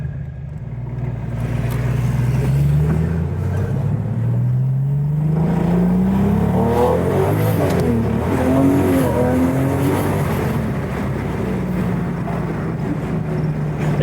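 A 1985 RUF Porsche 911 with a twin-turbo engine accelerates hard close by, its loud engine note climbing steadily through the gears and then holding a strong, sustained roar with no talking.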